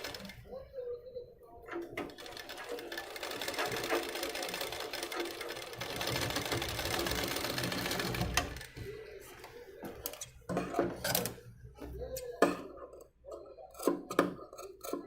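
A sewing machine runs in a steady whirring burst, stitching the collar neck of a blouse, then stops and gives way to scattered clicks, fabric handling and snipping.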